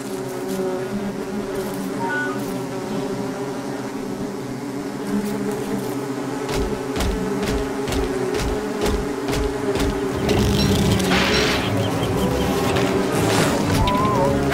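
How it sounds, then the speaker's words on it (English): A bee drones in a steady, loud, close buzz that keeps up for the whole stretch, with brief clicks and a brighter surge near the end. "there is no way that a bee should be able to fly"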